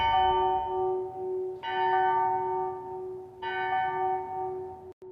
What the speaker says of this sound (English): The grandfather clock in the foyer was chiming the hour.